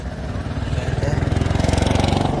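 A motorbike ridden forward and sped up, its engine giving a steady, fast pulsing throb that grows slightly stronger and more even as it accelerates, close and continuous with no talk.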